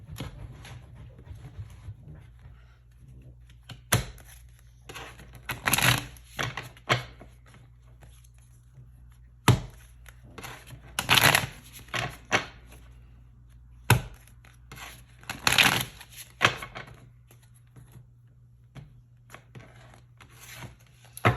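Tarot cards are shuffled and drawn by hand: scattered crisp riffles and soft slaps come in irregular bursts over a quiet background with a faint low hum, close and fairly loud, and no voice is heard.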